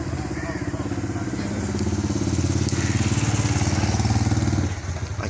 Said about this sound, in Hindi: ये जुमा खान की गाड़ी है, जो बाइक थी जिसे इसमें कन्वर्ट कर दिया है गाड़ी में, कूड़े वाली गाड़ी में